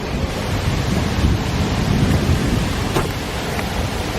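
Heavy outdoor rumble of wind buffeting the microphone with a low roar as a thunderstorm approaches during a bicycle trip, continuous and loud throughout.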